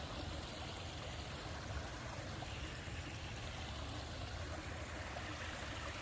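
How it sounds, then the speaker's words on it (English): A small waterfall trickles steadily in an outdoor grassy spot, a continuous soft rushing wash of water with no break, fairly quiet and even throughout. "Just that little waterfall area over there."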